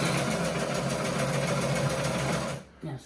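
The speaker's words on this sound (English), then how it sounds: "She's trying to sew here." A sewing machine stitching US red-and-white stripes onto an African-design fabric runs in a steady continuous whir for about two and a half seconds, then stops abruptly, leaving a brief quieter tail.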